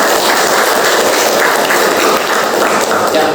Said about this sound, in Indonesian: Tepuk tangan buat anak Dina